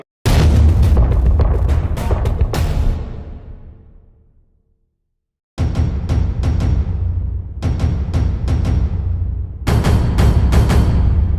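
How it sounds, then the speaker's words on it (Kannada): Explosive charges blasting rock at an illegal quarry site, a series of heavy booms and sharp bursts in clusters, loud and close, with a long decaying rumble and a pause of near silence between groups. "ಬಂಡೆ ಒಡೆಯಲು ಕಾನೂನುಬಾಹಿರವಾಗಿ ಸ್ಫೋಟಕಗಳ ಬಳಕೆ."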